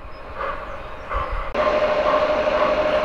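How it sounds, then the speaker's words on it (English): A G-gauge model train runs on a garden railway track outdoors, giving a steady, continuous mechanical rumble and whir at moderate distance that swells slightly partway through and holds to the end. "the track goes down here. This needs a bit more ballasting work, and then runs around the corner and up the side of that hedge where the fence and where the train is currently moving"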